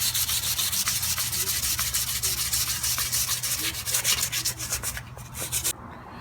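Steady, rapid back-and-forth sanding strokes rasp against dried wood filler on an antique chair, close and rhythmic, slowing and thinning out near the end.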